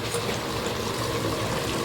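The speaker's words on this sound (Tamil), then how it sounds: "மசாலா கரைச்சி இதில் ஊற்றி" Continuous splashing pour as dissolved masala liquid goes into a pot of prawn paruppu kulambu with vegetables, steady and close.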